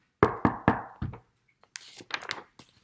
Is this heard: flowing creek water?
no